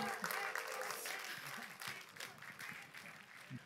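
Audience applauding a singer at an outdoor Let's DMZ concert stop in Ansan, a steady patter of clapping with voices talking over it throughout.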